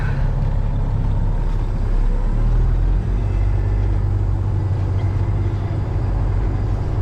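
A farm truck backs up slowly, its engine giving a loud, steady low rumble close by that shifts slightly in pitch as it moves.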